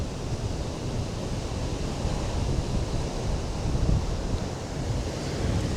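Strong wind buffets the microphone on a breezy coastline, a constant dense roar with low rumbling gusts and no voices.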